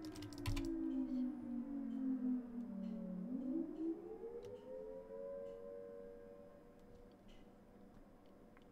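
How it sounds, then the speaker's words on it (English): A tornado siren under test wails in the distance, its tone sliding down and then rising again in a long sustained sweep, with faint ticking close by. "that's the emergency test for the tornado siren in my area"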